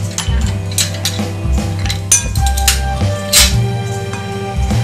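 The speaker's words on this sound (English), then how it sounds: "just use that wooden spoon and mix it all up" Wooden spoon mixing cookie dough in a bowl during a holiday cookie session in a home kitchen, heard as a steady run of close scraping and knocking against the bowl, with no talking.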